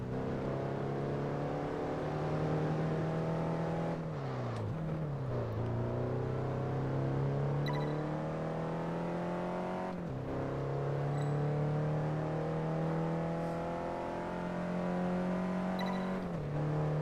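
A Chevrolet Camaro drives in the game Test Drive Unlimited 2, its engine note climbing in pitch through repeated upshifts, each ending in a brief dip before pulling again, steady and close.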